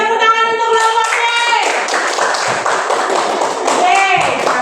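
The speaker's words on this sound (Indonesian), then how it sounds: "Beri tepuk tangan untuk kelompok C" Students in a classroom clap for a presenting group, producing a lively, close burst of hand claps and taps mixed with loud voices and tonal background sound.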